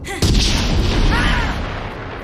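A heavy, booming blast hits hard and rolls into a long, echoing tail that slowly fades: a Winchester 1887 shotgun layered with cannon fire and a rifle fired in a canyon.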